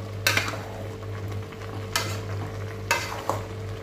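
Eggplant is stir-fried in a pan for pinakbet with bagoong alamang: a steady sizzle runs under three sharp, close scraping strokes of a utensil against the pan, spaced about a second apart.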